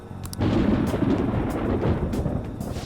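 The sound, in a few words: thunder rumbling in the video game Persona 5 Royal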